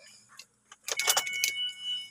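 Car keys jangling at the ignition of an automatic Ford Escape with the engine off, a few soft clinks followed by a brighter burst of metallic rattling, close and fairly quiet.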